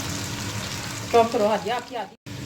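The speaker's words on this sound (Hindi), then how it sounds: "प्याज को हमने इतना फ्राई करना है कि उसका कलर चेंज हो जाए।" Onions sizzle in a pan for haleem, a steady frying crackle with a brief stirring scrape, then a short drop to near silence before the sizzling resumes.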